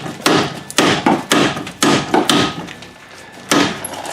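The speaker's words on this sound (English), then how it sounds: "I have a really nice brass hammer, Eddie." A brass hammer strikes aluminum spindle parts on a Buick during a spindle swap. About eight sharp, close metallic blows land in an uneven rhythm, some in quick pairs, with a brief gap before the last hit.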